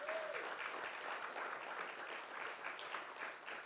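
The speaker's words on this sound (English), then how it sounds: "give him some love and a round of applause" An audience at an annual book awards ceremony breaks into sustained applause, a dense, even wash of clapping that continues at a fairly faint, distant level throughout.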